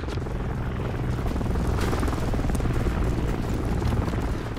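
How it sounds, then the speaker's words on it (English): An enemy overwatch helicopter in Call of Duty, its rotor thumping loudly and continuously as it approaches, heard without speech. "Enemy overwatch helo inbound."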